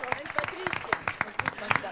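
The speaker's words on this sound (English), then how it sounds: "Can we give Bilal a round of applause?" A small audience at a dental management seminar claps briefly, sparse distinct hand claps in an uneven rhythm with voices mixed in.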